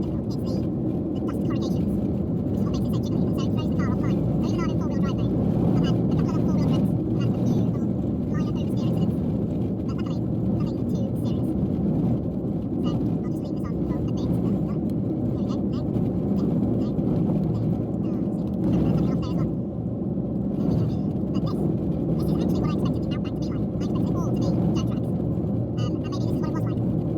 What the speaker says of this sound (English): it's the dust corrugations, which is what makes it so jiggly, and so it throws the car off line